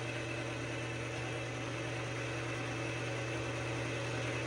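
An electric mixer runs at low speed through blueberry ricotta cake batter, giving a faint, constant motor hum with no change in pace and no talk.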